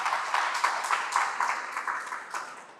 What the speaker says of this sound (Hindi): एक बार इन बच्चों के लिए हम जोरदार तालियां बजाए।